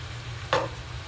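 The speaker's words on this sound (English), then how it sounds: "And give it another stir." A single brief scrape of a spoon turning cabbage with kielbasa and bacon in a frying pan, a short clatter over a steady low cooking hiss, nearby and alone.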